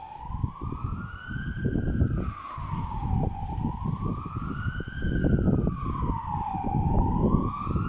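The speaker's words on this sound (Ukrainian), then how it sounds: "Десь сирена виє" A siren wails in slow rising and falling sweeps, moderately distant, over a rumbling background of passing traffic and wind, heard from a churchyard.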